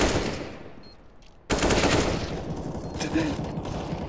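Automatic weapon fire rattles in CS:GO on the de_cache map, a sudden loud burst of rapid shots after a quieter stretch, continuing in dense volleys while voices chatter faintly in the background.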